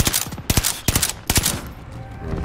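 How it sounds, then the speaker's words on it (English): Rapid bursts of gunfire from Call of Duty: Warzone crack loudly and close by. About six sharp shots come in quick uneven succession over a faint background rumble. "They're shooting at me."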